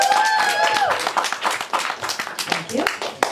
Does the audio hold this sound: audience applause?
yes